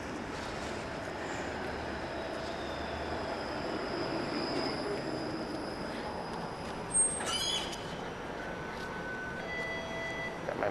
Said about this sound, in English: Oh, and here's a streetcar, perfect. I'm gonna jump on the streetcar.